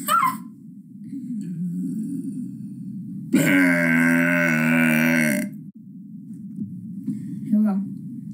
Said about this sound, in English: Grant has a technique for making it a long burp.